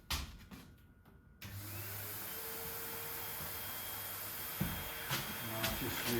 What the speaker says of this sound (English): there's a blower down at that end, and here along the track there's little holes so that you get a cushion of air